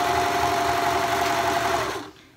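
A sewing machine stitching a sweater sleeve runs in one steady, close motorized whir with a fast even needle rhythm, then stops abruptly near the end, leaving a quieter tail.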